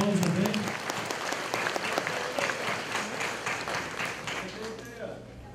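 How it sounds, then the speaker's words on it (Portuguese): A congregation applauds at the inauguration of a Lutheran evangelical temple in Santa Teresa, giving a dense, sustained round of clapping from many hands. A few voices murmur beneath it as it carries on without breaks. "Uma salva de palmas também."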